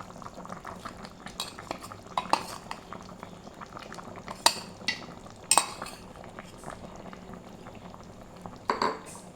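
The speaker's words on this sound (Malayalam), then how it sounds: "ഇതൊന്ന് ഇളക്കി ഒന്ന് യോജിപ്പിച്ചിട്ട് ഇതിൻ്റെയും പച്ചമണമൊക്കെ ഒന്ന് മാറണം." Ground coconut paste with garlic, shallots and green peppercorns stirred into a chicken and ash gourd curry in a pan, with a steady simmering bubble under scattered metallic spoon scrapes and clinks, close and fairly quiet.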